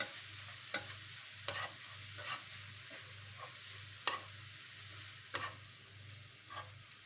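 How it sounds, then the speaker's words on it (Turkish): Ground beef frying with onions in a pan, stirred now and then with sharp scraping strokes over a steady low sizzle; close and fairly quiet, no talking. "Soğanlarımızla birlikte kıymayı da kavuruyoruz."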